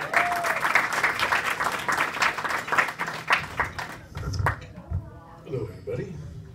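Comedy club audience applauding and cheering for the host being introduced at an Italian restaurant show, dense clapping for several seconds under a voice, then thinning out as he starts talking.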